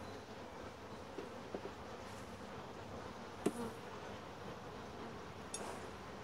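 Honey bees buzz steadily throughout a hive inspection, a dense continuous drone with a few sharper clicks and knocks from handling the frames, and no talk.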